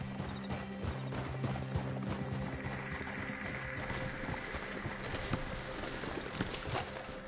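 In the Red Dead Redemption video game, several horses' hooves clip-clop steadily at close range with a faint whinny, the game's ambient sound playing beneath.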